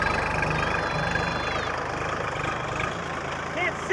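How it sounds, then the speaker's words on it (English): A tractor engine runs steadily close by at a constant idle-like drone, loud and continuous through the clip, with faint voices partly lost under it. "I can't hear you over the tractor."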